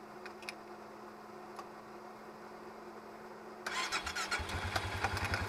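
Small engine cranked with a jump starter catches at about 3.7 seconds after quiet ambience, then runs loud and close with a steady rapid chugging idle.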